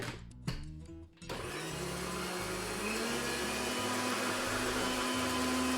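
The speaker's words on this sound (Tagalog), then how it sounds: "gonna use the blender." A blender mixing massage oil ingredients with lavender whirs loudly and steadily after a brief stuttering start, its motor holding a constant drone to the end.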